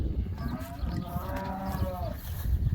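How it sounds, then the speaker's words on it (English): Heifers and new cows moo on a farm, one drawn-out low call rising and falling at mid distance over rumbling background noise, with no talk. "those are the heifers and new cows"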